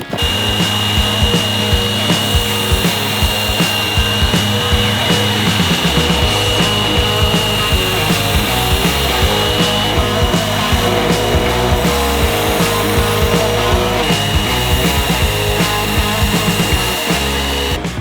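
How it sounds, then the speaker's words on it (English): A Work Sharp Ken Onion Edition knife and tool sharpener runs continuously, its belt motor giving a loud, steady whirring drone with a constant high whine, alone and unbroken for the whole stretch. "This is a Worksharp knife and tool sharpener."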